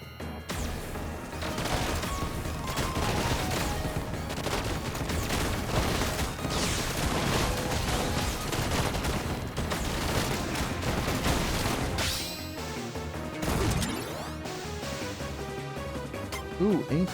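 Rapid assault rifle and pistol fire in the survival video game ARK, sustained bursts of loud shots that keep going for most of the stretch, then a short pause and a few more shots at the end.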